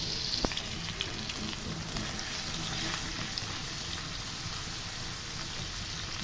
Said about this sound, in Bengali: এবার মশলাটা ভালোভাবে কষি নেব